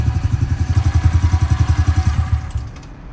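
2023 Honda CRF110 dirt bike engine running close by at a steady, rapid idle with a pulsing, chugging beat that fades away at the end.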